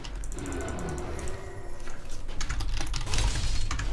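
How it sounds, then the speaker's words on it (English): Fast, uneven clatter of keys as someone types on a computer keyboard during a League of Legends match. Bursts of clicks are close and fairly loud, with no talking. "I was typing."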